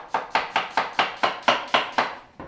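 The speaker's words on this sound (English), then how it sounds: "When you're chopping the onion, I cut it across the grain," A knife chops an onion finely on a board, ten crisp, evenly spaced strokes in quick steady rhythm, close and clear with no talking.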